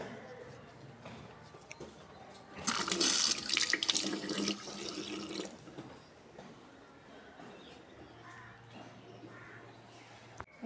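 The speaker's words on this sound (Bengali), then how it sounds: "আমি এটা ভিজিয়ে ধুয়ে ভালো করে দেখাচ্ছি। ডালটাকে এবার আমি ভেজাবো।" Tap water runs briefly over a periwinkle (Nayantara) cutting with tiny new roots, a gushing splash lasting a few seconds before fading, with someone talking and crows cawing faintly nearby.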